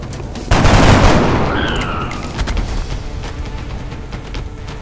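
Soldiers' gunfire in XCOM Enemy Unknown, a loud burst of shots at the start that decays into a rumbling tail, followed by quieter ambient battle noise.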